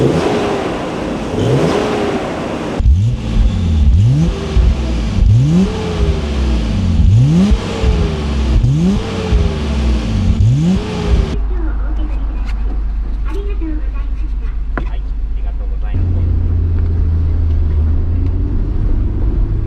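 A Nissan R32 GT-R engine driven on roads in Japan: loud, close revs climb repeatedly through successive gears in a steady rhythm, then settle into a lower, even cruising drone.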